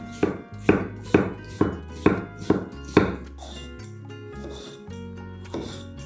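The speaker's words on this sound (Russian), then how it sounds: "Мы нарезаем перец сначала соломкой, а затем вот такими вот маленькими кубиками." A knife dices bell pepper rhythmically on a wooden board, about seven quick cuts in a row, followed by a pause and one more chop.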